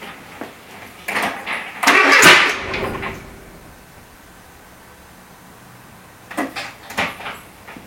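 Renault C1J petrol engine from a scrapyard cranks and catches in a short burst, then falls quiet, with clunks like a door or hood and a couple of later knocks.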